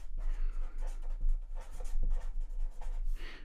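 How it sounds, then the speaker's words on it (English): Pen scratching on paper as a statistics sample-size problem is written out by hand, short close strokes and taps in an irregular rhythm over a low steady hum. "we'll first write down what we have"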